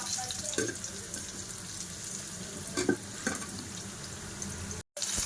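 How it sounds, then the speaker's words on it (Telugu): Garlic cloves and cumin seeds frying in oil in a pan, a steady close sizzle and crackle with a few sharper pops and stirring scrapes, no speech. "ఎల్లుల్లి లైట్గా రోస్ట్ అయ్యాయి కదండి. ఇప్పుడు జీరా వేసేసుకోవాలండి."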